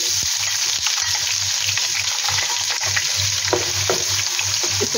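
Three sliced medium onions fry in hot oil in a pot, a dense, steady sizzle with rhythmic stirring scrapes and clanks close by, no voices.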